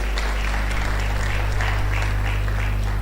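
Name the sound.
audience applause for undergraduates at an induction ceremony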